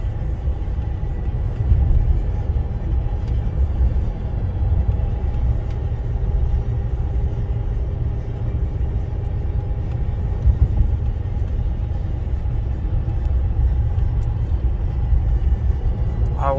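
Maserati Quattroporte Sport GTS cruising in comfort mode, a steady low road rumble and subdued engine hum heard from inside the cabin, continuous and even throughout with no speech.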